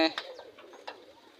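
A domestic pigeon coos softly in a short, quiet burst, nearby, with faint background noise.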